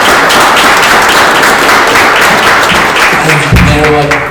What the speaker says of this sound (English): just want to give you a quick round of applause for everything that you've done for us